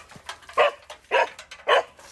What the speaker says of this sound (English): This is a nasty dog.